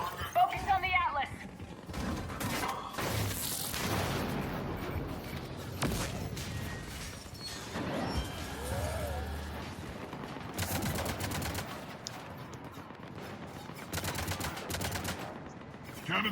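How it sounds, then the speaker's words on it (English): Cannons engaging in Mass Effect 3 combat, with bursts of heavy gunfire and booming impacts rolling through a busy battle mix, while voices speak over the action. "Cannons engaging."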